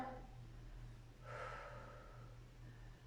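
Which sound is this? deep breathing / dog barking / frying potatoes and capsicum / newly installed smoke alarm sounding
deep breathing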